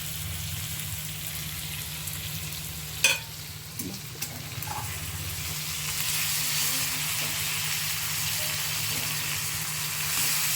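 Prawn shell curry with tamarind bubbling in a pot; a low, steady simmering hiss and faint bubbling, close by, with a few small clinks early on and a slightly louder hiss in the second half.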